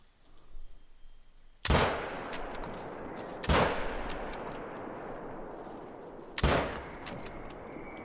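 Three loud, sharp 6.5 rifle gunshots fired while deer hunting whitetail on a New England mountain, spaced a couple of seconds apart, each followed by a long rolling echo through the woods.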